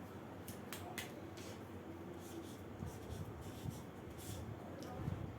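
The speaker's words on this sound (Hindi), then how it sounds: "तो मैं यहाँ पर लिख लेता हूँ" Soft, scratchy strokes of writing on a board, faint and intermittent over steady room noise.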